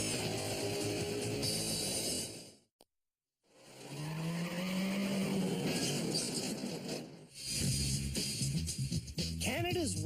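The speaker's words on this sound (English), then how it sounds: "Canada's worst drivers are showing us that they've learned how to control a skidding J-turn" A car skidding through a J-turn on a driver training course, with rising engine roar, a long tire squeal sweeping across the turn, a brief silent break, then more engine and scrubbing tires, while people talk over it.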